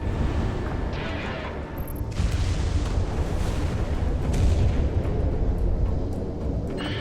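Aircraft cannon and weapons fire during a dogfight in the game Project Wingman, a continuous dense roar of rapid firing and rumbling blasts that stays loud and steady throughout with no speech.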